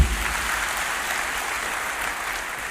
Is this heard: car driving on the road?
no